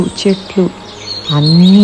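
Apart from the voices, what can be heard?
birds chirping in forest, animation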